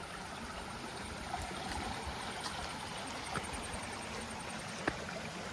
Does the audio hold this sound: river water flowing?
yes